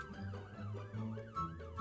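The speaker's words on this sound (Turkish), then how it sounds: "Polis arabası geldi. Oo, buna da mı binemiyoruz? Yo bindik. Hemen seren aç." A wailing police car siren from the Roblox game Brookhaven, its electronic tone sweeping steadily up and down and loud throughout.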